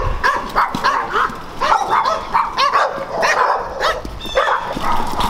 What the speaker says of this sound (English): we call that dog a Jack Russell, but Chulo calls that dog breakfast